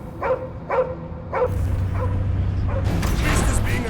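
Cosmo, a dog in the Guardians of the Galaxy video game, gives three sharp barks in an even rhythm, then a fourth bark. A low rumble and louder battle noise build up under the barking, and game voices talk over it.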